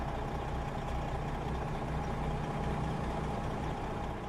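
Steady low rumble of a truck engine in American Truck Simulator with a sound fixes mod, droning continuously at a moderate level with no voices.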